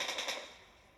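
A short burst of rapid automatic gunfire from a mobile shooter game played on a Honor X9C phone, about three quick shots fading into a brief decaying tail, fairly quiet.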